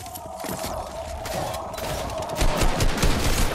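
Rapid gunfire crackles in a Bed Wars game, a fusillade of sharp shots under a steady tone, growing louder toward the end.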